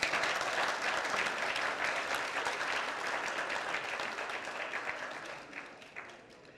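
A graduation ceremony audience breaks into dense, sustained applause, loud at first and gradually thinning out over several seconds as the clapping fades.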